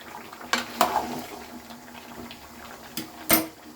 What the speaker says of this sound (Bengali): এবার নাড়িয়ে নিচ্ছি এটা।